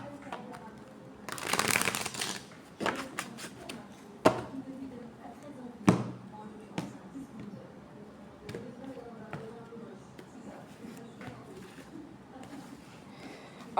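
Tarot advice cards being shuffled and drawn, with a burst of rustling riffles early on followed by scattered sharp card slaps and flicks over a quiet background.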